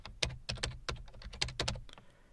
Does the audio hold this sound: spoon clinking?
no